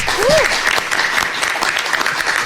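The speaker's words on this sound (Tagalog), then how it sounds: "Ito ang pinakamalakas na palakpak." Studio guests at a podcast taping clap loudly and continuously, with a brief vocal whoop near the start and some overlapping voices.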